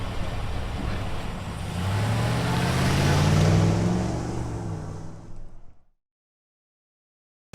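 A sheriff's patrol car drives around a driver training course at roughly 25 mph, its engine rising in a steady roar with tire and road rumble, then cutting off abruptly into silence near the end.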